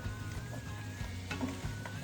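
Frozen vegetables for shepherd's pie being stirred in a sizzling pan, a steady close frying hiss with soft scraping strokes, no talking.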